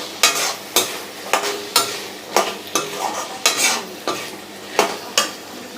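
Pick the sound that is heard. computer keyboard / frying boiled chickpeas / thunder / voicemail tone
frying boiled chickpeas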